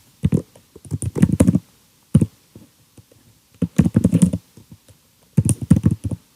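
Computer keyboard typing while a query is entered into a Prolog program in Visual Studio Code, coming in three close bursts of rapid clicking keystrokes separated by short pauses, with no talking.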